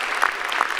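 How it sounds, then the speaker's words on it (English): Applause from a convocation audience honoring faculty award winners, a brief steady patter of clapping at moderate volume. "Let's give all of our faculty award winners one more round of applause."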